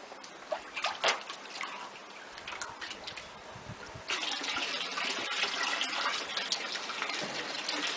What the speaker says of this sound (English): I'll pour off some of this water